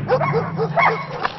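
Several dogs from a pack of sixteen yip and bark in quick bursts at a remote home in Surrey. They sound close and excited, with some whimpering mixed in.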